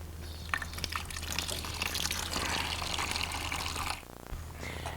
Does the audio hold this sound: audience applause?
no